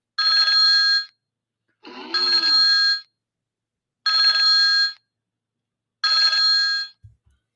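An outgoing telephone call rings four times, each long electronic ring burst followed by a pause in a regular cadence, loud and clear, with a faint thump at the end.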